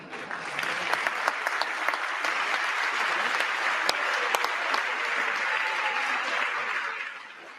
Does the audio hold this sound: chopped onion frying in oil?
no